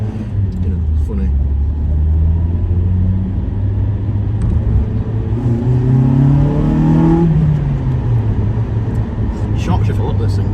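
A Honda car engine revs hard and rises in pitch, then its tone shifts sharply as VTEC switches over to the high-lift cam near 5,500 rpm, loud and close, with the note swelling into a harder, higher howl before easing off.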